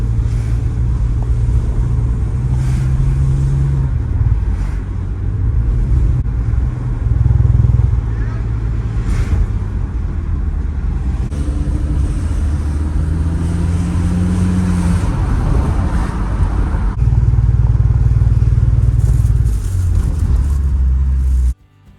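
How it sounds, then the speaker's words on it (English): A BMW X3 with a worn flex disc and center support bearing driving on the road, a steady loud cabin drone with low engine hum and road rumble, shifting as it accelerates. "we're going to show you how the car is acting on the road"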